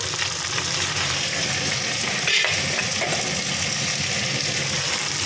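Green jackfruit pieces frying in hot oil with cumin and salt, a steady broadband sizzle that holds evenly throughout with a brief louder burst midway, no voices.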